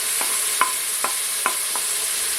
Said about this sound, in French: vous savez comment il faut faire dorer un petit peu la viande